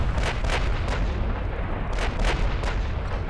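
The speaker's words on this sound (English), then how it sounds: "Imperatrice Maria currently opening up. Shells are in the air" Battleship main guns fire shells in the naval game Ultimate Admiral: Dreadnoughts, a steady barrage of loud booming blasts repeating every fraction of a second over a heavy continuous rumble, with no voices.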